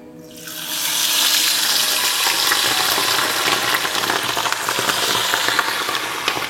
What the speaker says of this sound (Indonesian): ini aku sudah siapkan minyak panas untuk menggoreng parunya.